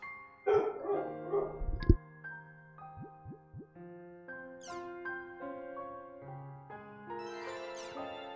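Barking and yipping dogs from the video game Volume 1 Rebirth come in a few short bursts early on, then give way to quieter yelps over a soft, steady musical backdrop.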